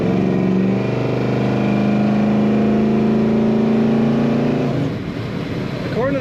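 A 1970 Pontiac GTO 2dr Sport Coupe engine revs while driving, a strong, steady harmonic drone that holds and swells for several seconds before dropping away near the end.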